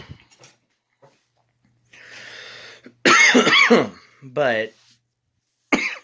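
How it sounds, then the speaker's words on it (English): A person gives a few short, harsh coughs and throat clears, loud and close, amid brief bits of speech and quiet pauses. "And you guys, you hear me coughing."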